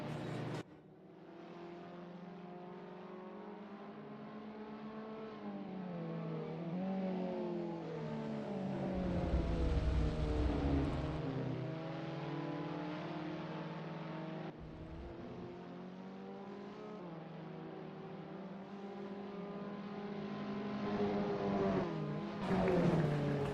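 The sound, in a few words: Caterham Academy 2020 race car engine on lap, video game Assetto Corsa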